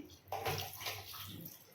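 Water splashes in from a pour into brinjal curry gravy in a pan, a short close gush that starts abruptly and trails off within a couple of seconds.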